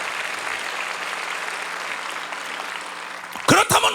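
A church congregation at a peace and unification prayer rally breaks into sustained applause, a dense even patter filling the hall, with a voice cutting in briefly near the end.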